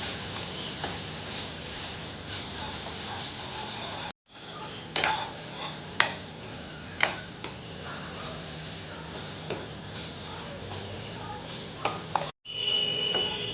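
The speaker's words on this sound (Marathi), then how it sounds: "हे पुन्हा एकदा आपण सर्व व्यवस्थित तेलामध्ये परतून घेऊया" Spices with garam masala and salt sautéing in hot oil for a crab curry, a soft continuous sizzle with occasional clinks and scrapes of a spoon against the pan, fairly quiet and close.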